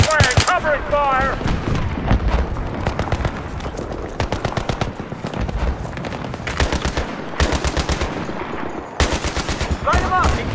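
Sustained machine gun fire fills a Battlefield 3 firefight in rapid, loud bursts that run almost continuously, with shouted voices mixed in between volleys.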